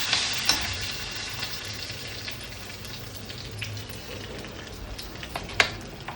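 Mustard seeds, white urad dal and curry leaves frying in hot oil give a dense, steady sizzle, broken by sharp pops and crackles close by, with no one talking.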